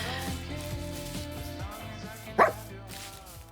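A Minecraft wolf in a stone-tools biome challenge game gives a single short bark-like yelp over steady background game music.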